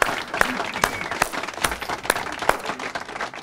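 Audience applause welcoming a guest on a television quiz show, steady crowd clapping with sharp individual claps, accompanied by a voice speaking over it.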